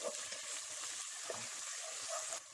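Ginger-garlic paste with coriander and green chili frying hard over a high flame, a steady broadband hiss of sizzling oil with faint stirring scrapes, close and continuous throughout.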